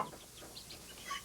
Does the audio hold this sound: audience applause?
no